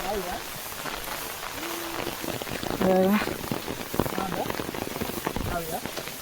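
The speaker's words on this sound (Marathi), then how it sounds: "मुसळधार पाऊस लागता बघा" A heavy downpour drums steadily on the ground and vegetation in the countryside outdoors, with a voice talking over the rain.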